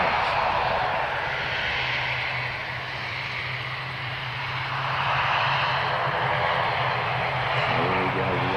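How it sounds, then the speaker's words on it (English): An ATR turboprop at Auckland airport runs its engines up after maintenance, a loud sustained propeller drone with a low steady hum that dips briefly and then swells again, with voices in the background. "the ATR. It's been doing revs."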